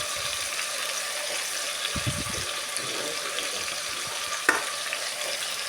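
Potatoes frying in a pan for a home-style fish fry, with a steady broadband sizzle throughout, a brief stirring scrape near the middle and a sharp clink near the end.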